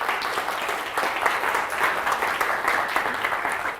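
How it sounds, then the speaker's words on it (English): Steady applause from an audience in a lecture hall, a dense, even wash of many hands clapping that holds at a constant level throughout with no break. "A round of applause"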